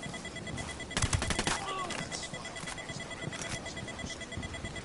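Several pistol shots crack in quick succession in a PS4 shooter game, loud and close, followed by quieter game sounds and a faint voice in the background.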